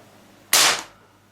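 A single sharp, loud blank shot from a Zoraki HP 01 blank pistol, close by, with a brief tail fading over a fraction of a second and no speech.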